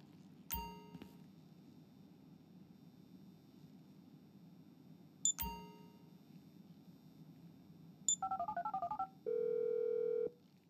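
Phone call from the game Grand Theft Auto V: two sharp metallic clangs, then a quick run of dialing beeps and a steady ringing tone, fairly quiet and with nobody talking.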